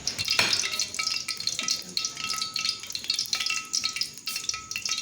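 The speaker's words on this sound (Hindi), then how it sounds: "ये देखें, हमारा ये घी गर्म हो रहा है।" Two to three spoons of ghee heat in a pan for quail karahi, giving a busy crackling sizzle with scattered sharp pops and faint clinks throughout, fairly close and without talk.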